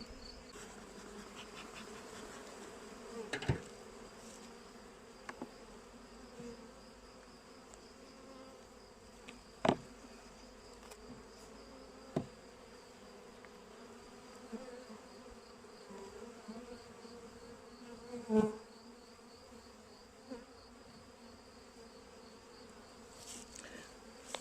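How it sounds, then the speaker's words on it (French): Honeybees in a queenless colony hum together as a steady, soft drone that fills the whole stretch, with a few brief louder bumps and knocks now and then. "les abeilles sans reine font plus de bruit qu'une colonie qui a une reine et qui est plus calme"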